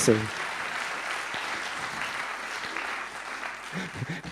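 Steady applause from an audience fills the whole stretch, even and sustained, with a voice briefly audible at the start and end.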